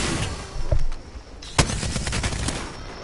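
Rapid automatic gunfire in the battle-royale shooter Apex Legends, loud and close, with dense bursts of shots and a sharp crack near the middle.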